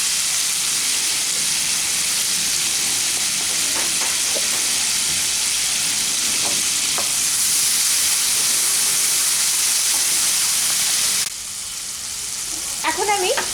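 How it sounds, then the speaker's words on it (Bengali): Spice paste with a little sugar is sautéed in a pan for a Bengali ridge gourd dish, giving a loud, continuous close sizzle and hiss with occasional stirring scrapes. "ভালো করে এখন এই মশলাটাকে একটু কষিয়ে নিচ্ছি।"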